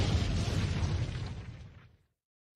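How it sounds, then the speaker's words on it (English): A bomb explosion sound effect bursts out loud and booming, a broad rumbling blast that holds for about two seconds and then fades into silence. "Let me go ahead and drop a bomb for you."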